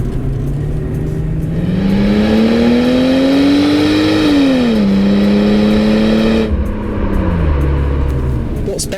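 A 2021 BMW 4 Series engine revving loud and close, its pitch rising, dipping and climbing again in sustained pulls, with a brief drop in intensity near the end.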